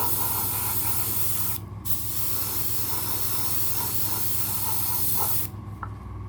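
An airbrush sprays a black base coat onto a 1/72 scale model SAM-6 kit with a continuous close hiss. It breaks off briefly partway through, resumes, then stops near the end.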